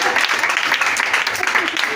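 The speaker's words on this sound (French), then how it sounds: "Acclamez le Seigneur si tu es d'accord avec moi." A church congregation claps and cheers to acclaim the Lord during a French-language sermon, a dense, continuous burst of applause mixed with voices that holds steady for about two seconds.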